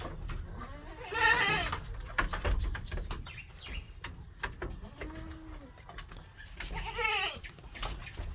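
A goat on a farm bleats several times in short wavering calls, with faint birds chirping and quiet rustling between the cries, moderately close and fairly soft.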